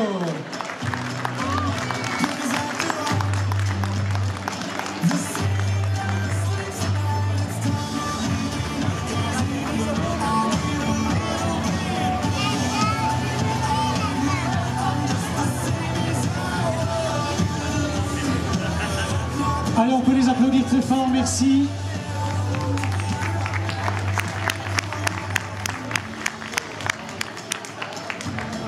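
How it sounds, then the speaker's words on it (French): Crowd applause for half-marathon runners at an outdoor race ceremony, a steady wash of clapping and cheering that runs throughout, mixed with an announcer's amplified voice and crowd chatter. "Un semi-marathon dans ces conditions, franchement, ça mérite des applaudissements, bravo."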